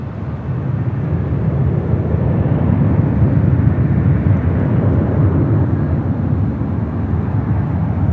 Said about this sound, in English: Alaska Airlines in the More to Love livery now rolling on 25 right to Newark